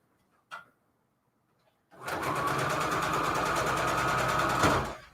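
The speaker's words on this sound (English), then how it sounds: "let's go ahead and get sewing here" After a brief knock and a near-silent pause, a sewing machine starts up close by and stitches a patchwork junk journal cover in a fast, steady whir for about three seconds, then slows to a stop.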